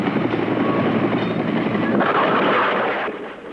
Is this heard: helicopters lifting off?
yes